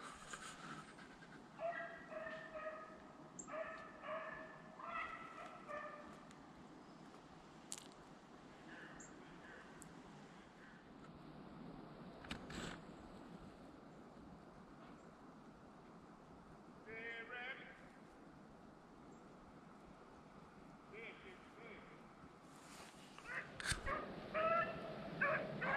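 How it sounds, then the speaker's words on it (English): A hunting dog pack bays and yips while chasing a rabbit in eastern North Carolina, heard at a distance in bursts across an outdoor scene, with panting, whimpers and some nearby talk. "Now this is all Mr. Linwood pack because the rest of the dogs took off on some trash."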